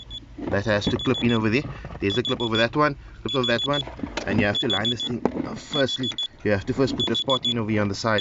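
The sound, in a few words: alarm going off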